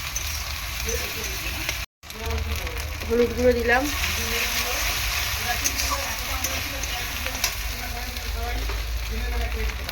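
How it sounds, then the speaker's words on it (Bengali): Spices such as turmeric fry in leftover fish-frying oil in a pan, giving a close, continuous sizzle and crackle while a voice speaks over it and a brief dropout cuts in early. "মাছ ভাজার তেলটা আর ফেলবো না, ওর মধ্যেই তেল দিয়ে এই মশলাটা কিন্তু কষিয়ে নিচ্ছি আমি"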